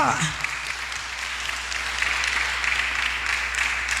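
A church congregation applauds: a continuous wash of clapping from many hands, steady and moderately loud throughout, with faint voices mixed in.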